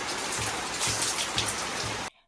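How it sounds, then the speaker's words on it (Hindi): Heavy rain pours steadily on a village morning, a dense, loud hiss of drops hitting surfaces with faint low thumps, then cutting off abruptly at the end. "ये जो बारिश की सुहानी सी सुबह है"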